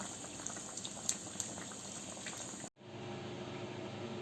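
Nei appam batter frying in hot ghee or oil, a steady dense bubbling hiss with small pops, briefly cut off then resuming at lower level.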